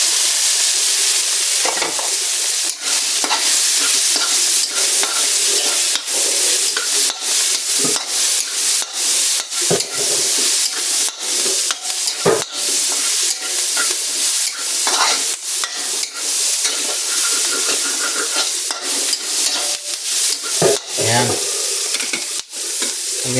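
Pechay stalks tossed into a pot for sotanghon soup and stirred, a close, continuous sizzling hiss broken by repeated scraping clicks of the spoon against the pot.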